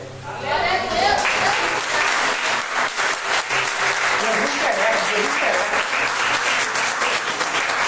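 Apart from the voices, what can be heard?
congregation applauding Jesus while standing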